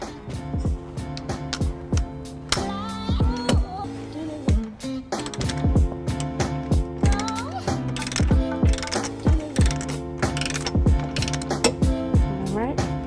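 A 19 mm ratchet wrench tightens trailer hitch bolts on a 2018 BMW X1, giving rapid close clicking bursts in uneven runs with brief pauses, over a loud, busy background with tonal hum.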